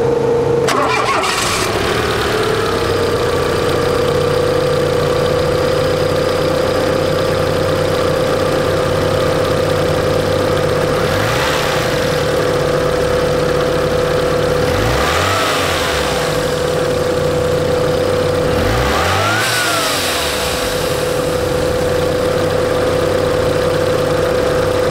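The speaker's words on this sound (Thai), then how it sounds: "มาฟังเสียงเครื่องยนต์กัน" Citroën XM 2.0 Turbo C.T with its XU10 turbo petrol four-cylinder, eight-valve, idling steadily and close by, a low even hum after a brief start, with a couple of faint passing swells over the top.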